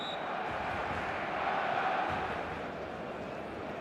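A large stadium crowd roars in the eFootball 2025 video game on a clear evening before a showcase match, a dense, steady wall of cheering that swells slightly midway and holds throughout without clear voices.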